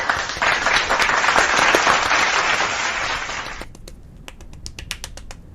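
Rapid hand clapping by one person, a fast dense flurry of claps for several seconds that then slows into separate sharp, close claps and snaps.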